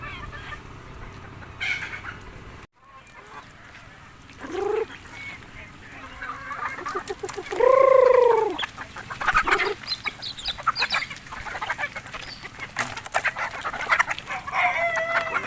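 Chickens cluck steadily close by while being fed Madre de Agua, with a rooster crowing loudly partway through and other birds calling over a busy outdoor background.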